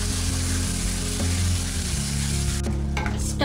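Onion paste and ginger garlic paste frying in a pan, a loud, steady sizzle and crackle close by, with a brief shift in tone near the end as the pan is stirred.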